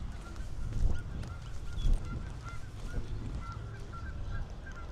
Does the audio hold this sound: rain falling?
no